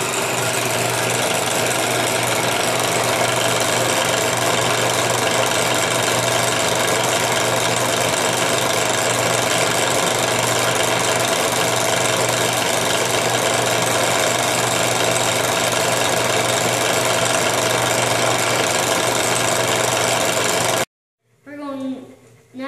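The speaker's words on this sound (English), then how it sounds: "We put an axle in the drill press, and now we're going to polish it." A drill press spins an axle for polishing on a Pinewood Derby car build, giving a loud, steady motor drone with a constant hum that runs without a break, then cuts off abruptly near the end, leaving a brief quiet stretch.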